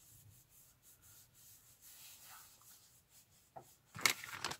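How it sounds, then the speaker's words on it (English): A Charlotte Tilbury dry sheet mask rubbed gently on the face in circular motions gives a soft, quiet papery rubbing that continues steadily, with a brief louder scuff near the end. "So I'm just kind of rubbing with circular motions, not too harsh because I don't want to rip it."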